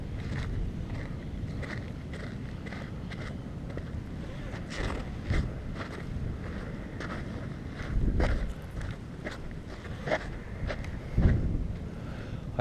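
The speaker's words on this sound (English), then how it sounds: "I'm glad there's just enough wind to keep this little guy up." Wind blows while a four-line power kite is flown outdoors, a steady gusty rush with buffeting against the microphone and scattered rustling thumps throughout.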